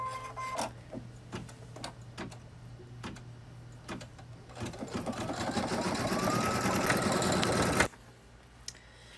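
An embroidery machine stitches the letter B in the hoop, a busy rapid mechanical chatter of needle strokes with intermittent clicks that builds and steadies into a continuous whir, then stops abruptly near the end.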